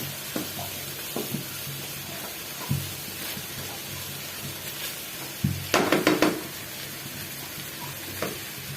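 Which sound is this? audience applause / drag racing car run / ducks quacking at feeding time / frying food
frying food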